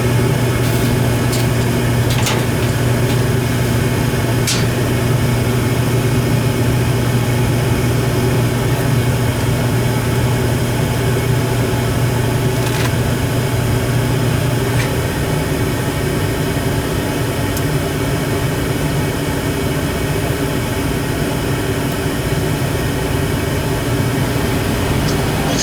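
An old York gas furnace running in a building, a steady low mechanical drone with a constant hum and a few faint clicks, continuous and unchanging at close range.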